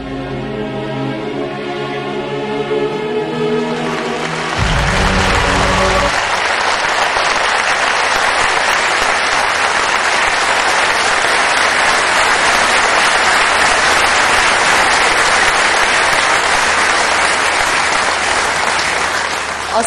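Sustained audience applause after a speech, loud and dense clapping from a large crowd filling the whole stretch, preceded by a few seconds of other sound.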